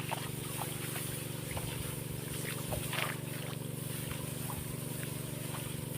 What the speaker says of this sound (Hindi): अब जा रहे हैं इंजन को बंद करने।